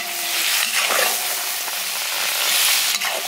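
Quail fry in a kazan with dried thyme, giving a loud, dense, continuous sizzle with faint stirring scrapes and no talking.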